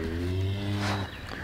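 A cow moos in one long, low, loud call with a strong harmonic tone that breaks off near the one-second mark, followed by quieter rustling background noise.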